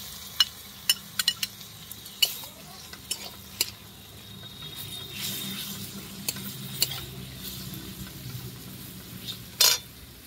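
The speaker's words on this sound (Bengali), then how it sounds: "পেঁয়াজটাকে লাল লাল করে একটু ভেজে নিয়েছি, এবার রসুন বাটা দিয়ে দিচ্ছি।" Garlic paste frying with browned onions for a mutton curry, a low steady sizzle in the pan broken by scattered sharp scrapes and clinks of a spoon stirring against metal, with no voices.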